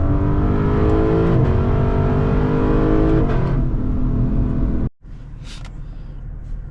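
Lexus LC 500 engine revving hard through downshifts, loud and close, with pitch rising and falling in quick blips before abruptly dropping to a lower, steady cruising drone. No one speaks.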